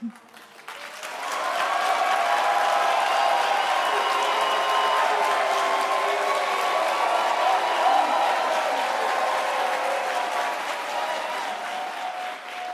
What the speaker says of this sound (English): can we just have 10 seconds of applause that I can record and we can send to Stevie later?